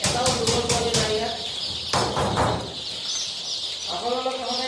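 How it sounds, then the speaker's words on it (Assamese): A brooding pen of about five hundred local chicken chicks gives off a chorus of high chirps and peeps, some in quick repeated bursts, with someone talking at times. "ইয়াতে আছে 500 পিছ লোকেল মুৰ্গীৰ পোৱালি।"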